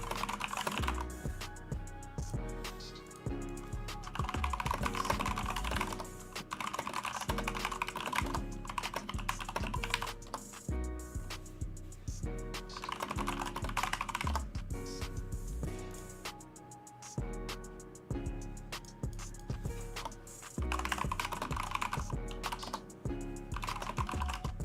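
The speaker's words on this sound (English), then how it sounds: "Sorry, you hear me typing up away." Quiet, continuous clatter of fingers typing on a computer keyboard, irregular bursts of keystrokes with short pauses, nearby and unaccompanied by voices.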